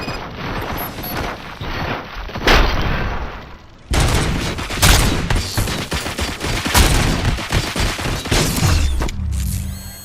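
Dense gunfire in the Robocop: Rogue City video game, with rapid bursts and booming shots rolling almost continuously and very loud, plus a brief break partway through before the firing resumes.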